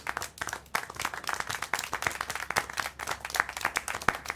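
Continuous video game applause from many hands, a dense patter of claps without cheering or voices.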